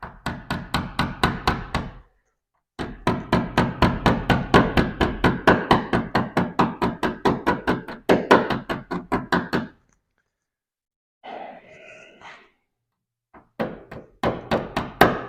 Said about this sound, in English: sometimes you can use a little mallet or something